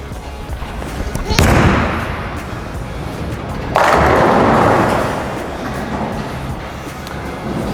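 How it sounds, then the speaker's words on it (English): A Venom Shock bowling ball thrown on an alley lane: a sharp thud as it lands, then a loud, sustained rolling rumble that swells, fades and gives way to continuing alley noise. "So I'm going to go throw that now and see what it does."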